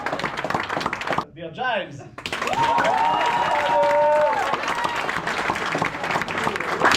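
An audience at a school trip talent-style contest applauds to vote for a candidate, loud crowd clapping broken by a brief spoken interjection, then rising again with cheering and whistle-like calls.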